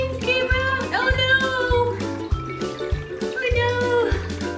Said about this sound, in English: Bubbles came out.